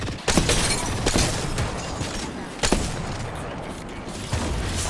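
Gunfire in a ranked online shooter match: a few sharp shots and bursts ring out over a dense, loud wash of game noise, with players talking throughout.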